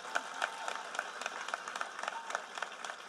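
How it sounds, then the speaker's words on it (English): Scattered audience clapping at a 2021 high school graduation ceremony, a moderate, uneven patter of hands that holds steady for a few seconds without any cheering. "let's give them another round of applause"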